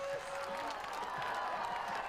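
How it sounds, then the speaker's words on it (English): A track meet crowd at the Jesuit Twilight Relays rises to its feet, a steady wash of distant cheering and applause filling the stadium throughout, with a sustained whistle-like tone near the start. "Crowd on its feet."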